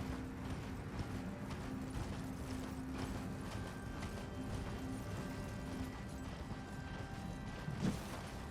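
A horse gallops in Elden Ring, faint rhythmic hoof clops with creaking tack and mechanical game effects, steady throughout at low volume over a quiet background.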